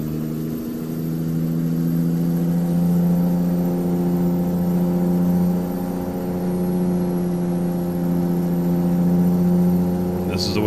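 A heavy truck engine in American Truck Simulator, hauling double 48-foot trailers, holds a loud steady drone, its pitch rising slightly as it pulls through a gear change, close and continuous throughout.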